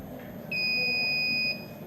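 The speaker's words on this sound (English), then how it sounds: "it's doing the long beeps." A Raspberry Pi setup emits a single long, steady electronic beep lasting about a second, loud and clear over a low background hum.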